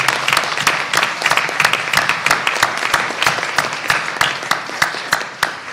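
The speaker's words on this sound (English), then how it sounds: "Let's give them a big round of applause." Audience applause for teachers at a Hillsborough Township school district event, a dense, steady round of clapping from a sizable crowd that carries on evenly throughout.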